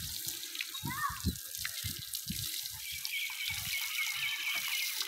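Water splashes and pours in uneven bursts over a buffalo being bathed in a Punjab village, with a steady running-tap hiss underneath and low wet slaps against its body.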